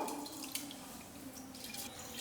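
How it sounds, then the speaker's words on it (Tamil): Water pours and trickles as it drains off soaked lentils, a continuous splashing flow with a few drips, fairly close. "தண்ணியெல்லாம் வடிச்சிடலாம்"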